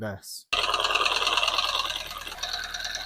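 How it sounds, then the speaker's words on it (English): The damaged engine of a salvage 2023 Audi A4 runs steadily and loudly after a brief spoken word, rough and rattling with a harsh mechanical clatter throughout. "I recently bought this salvage 2023 Audi A4 and its engine sounds like"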